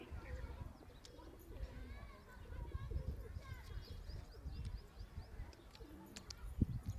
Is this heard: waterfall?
no